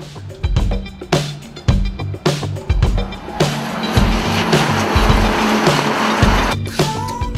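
Race cars from the Lamera Cup roar past at the Le Castellet circuit in a string of loud bursts, engine notes rising and falling as they shift, followed by a sustained, dense wall of engine noise with tire squeal.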